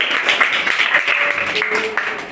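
A crowd of people claps in dense, steady applause that keeps up throughout, fairly loud and close, with a faint tonal sound drifting through.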